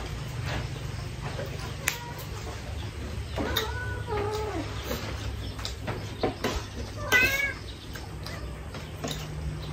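A cat meows a few times, close by, over a low steady hum and scattered background clatter.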